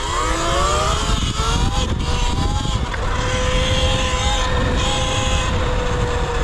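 A motorcycle ridden on city streets in Los Angeles, its engine droning steadily and loudly up close with rising and falling pitch as it accelerates, with wind rush throughout.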